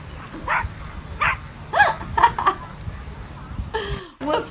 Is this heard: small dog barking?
yes